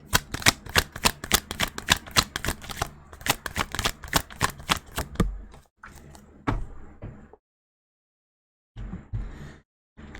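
Tarot cards being shuffled during a reading: a rapid run of crisp riffling flicks for about five seconds, then a few softer slides and taps, a pause of silence, and a brief final shuffle.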